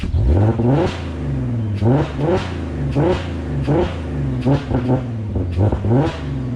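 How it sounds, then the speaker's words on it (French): A Porsche Cayenne engine revs repeatedly through its exhaust, close and loud, in a series of rising blips and throttle bursts with short pauses between them. "Une petite ligne d'échappement."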